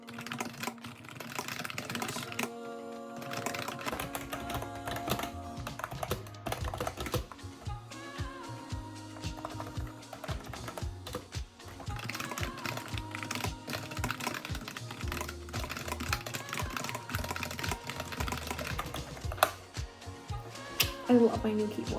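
Continuous rapid clatter of keys on a new computer keyboard, typed close by at a steady pace throughout, with soft background music underneath.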